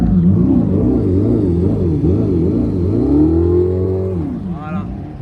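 A Dodge Charger EV's loud, warbling synthesized engine sound, rising and falling in wavy sweeps, then swelling upward before fading, up close with no one talking.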